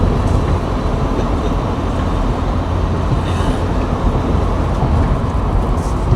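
Loud, continuous road rumble from inside a vehicle travelling behind a large truck on a provincial road, with a broad, steady roar of engine and tyre noise throughout.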